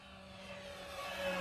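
A Dynam T-28 Trojan 1.3 m RC airplane on a 4S battery flies at full throttle, its electric motor a steady tonal whine that rises slightly in loudness, heard from a distance.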